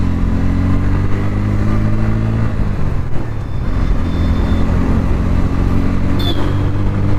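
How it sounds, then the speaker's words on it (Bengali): Motor vehicles race along a road with a loud, continuous engine drone that shifts in pitch partway through as they accelerate, and a brief higher whine rises near the end. "রেস করছে গাইজ।"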